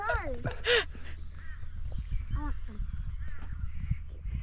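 A crow calls with a few harsh, hoarse caws near a campsite in a gorge, over steady low background noise and scattered other bird calls.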